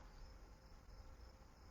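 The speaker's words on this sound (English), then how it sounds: "Now it's just quiet and there's crickets." Crickets chirp steadily on a quiet Saturday night under a full moon, a continuous high, even trill throughout with no voices or traffic.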